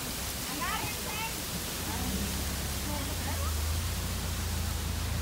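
The Rio Hondo in Guatemala rushes past in a dense, continuous roar of river water, loud and close, with faint voices briefly audible near the start.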